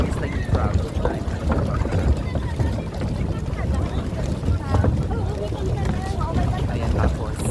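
A small boat crosses from Boracay to the port, its motor rumbling low and steady under constant wind buffeting and splashing water, with voices audible over the noise.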